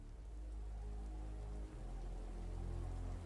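Steady rain falls in the game Warhammer: Vermintide 2, a dense constant hiss of drops on surfaces with a low rumble beneath, unbroken and even throughout.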